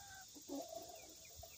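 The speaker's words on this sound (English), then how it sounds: "Look at these pretty chickens." Chickens on a small homestead clucking quietly, a few soft short clucks and murmurs spread across the moment, faint and without talk.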